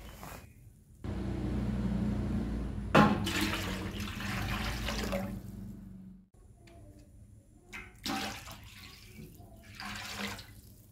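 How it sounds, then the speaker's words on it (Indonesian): Water poured in a steady stream into sugar syrup while making kue talam, a splashy wash that runs through most of the stretch, with a brief pause in the middle, then resumes, no talk. "berikutnya kita tambahkan kembali air ke dalam air gula ya"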